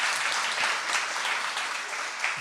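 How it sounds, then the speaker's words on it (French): Audience clapping at a francophone media anniversary event, a dense steady round of applause lasting a couple of seconds, moderately loud and with no talk over it. "On peut l'applaudir, Eric, bien sûr."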